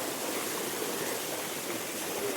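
A deep, waist-high river flows steadily outdoors in the UK countryside, giving a continuous broadband rushing wash that stays even and fairly close throughout, with no voices.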